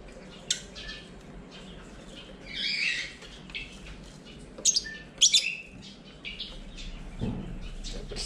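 A pet bird gives a few short chirps and sharper squawks, scattered and fairly close, over a low steady background hum in a home setting.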